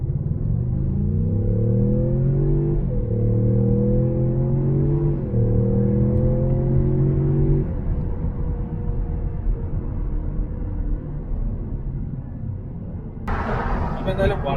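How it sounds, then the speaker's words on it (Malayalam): Ford Mustang convertible engine pulls hard from a standstill to sixty, revs climbing in repeated rising sweeps through several gear changes, then settling into a steady road rumble with wind noise near the end. "നമുക്ക് 0 to 60 എത്ര സെക്കൻഡിലെത്താൻ നോക്കാം"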